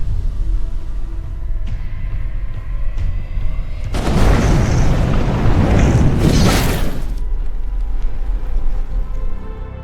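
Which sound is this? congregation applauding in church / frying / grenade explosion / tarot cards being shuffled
grenade explosion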